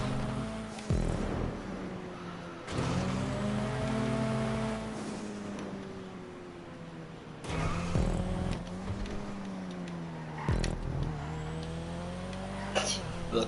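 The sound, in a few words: car engine accelerating in GTA Online video game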